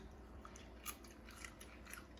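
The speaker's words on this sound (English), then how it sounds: "You hear that crunch? That's crispy skin, baby." Close, crisp crunching of teeth biting into crispy smoked chicken skin, a few sharp crackly bursts over steady chewing noise, no talking.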